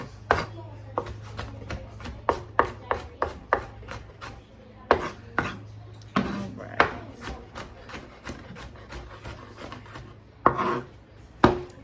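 Knife chopping food into bite-size chunks on a wooden board for keto cookout side dishes, a run of crisp, close, uneven cuts with short pauses, some taps louder than others, over a low steady hum.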